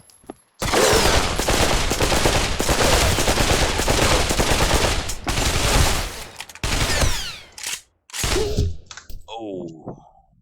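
Sustained automatic rifle fire in the VR shooter Pavlov VR, long loud bursts of rapid shots separated by brief pauses, ending with scattered quieter sounds; someone speaks over part of it.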